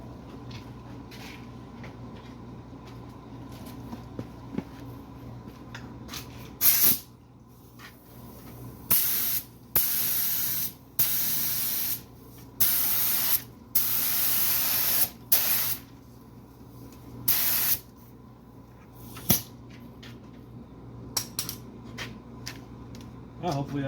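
A spray gun lays a coat of pearl paint in a series of sharp hissing bursts, each a second or so long, separated by short pauses, fairly close and steady against a quiet shop background.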